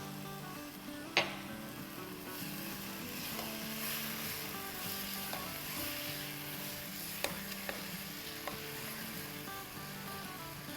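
Schezwan chutney ingredients, chopped aromatics with salt, fry in a pan with a steady low sizzle, broken by a few sharp utensil clicks and taps.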